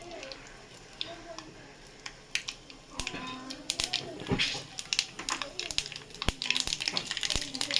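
Black mustard seeds and dried chillies crackle and pop in hot oil, with sharp irregular snaps becoming more frequent over a low sizzle, close up.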